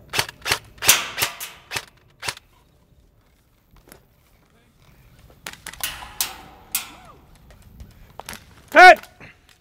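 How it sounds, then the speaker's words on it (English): Airsoft guns firing BBs during a skirmish game outdoors: sharp snapping shots in quick bursts, several in a row near the start, more scattered pops later, with faint movement and rustling between volleys. "Firing BBs as opposed to firing anything else"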